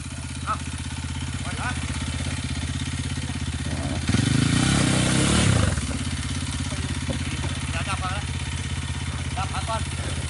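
Kawasaki and Honda enduro motorcycles climb a hill, their engines droning steadily at a distance with a louder revving surge midway, while people talk over the noise outdoors.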